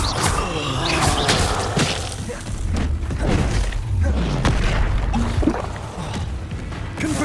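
Rapid spell explosions from the Expulso blasting charm in Hogwarts Legacy: a dense stream of bangs, thuds and crashing impacts during a busy magical fight, loud and continuous with little pause between hits.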